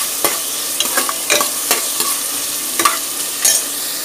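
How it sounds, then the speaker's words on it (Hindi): Whole garam masala fries in a pan while a spoon stirs it toward golden brown. Sharp scraping clicks land at irregular intervals over a steady bright sizzle, close and clear, with no voices. "गोल्डन ब्राउन होने तक चलाएंगे।"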